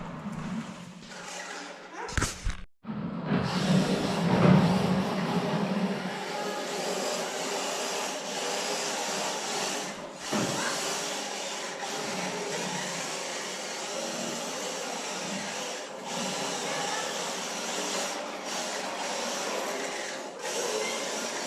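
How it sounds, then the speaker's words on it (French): A child's noisy toy machine whirring steadily at home, a constant droning motor-like hum that runs throughout with a brief interruption near the start, while faint talk sits underneath. "alors désolé pour le bruit, c'est mon petit gars qui s'amuse avec sa mécane"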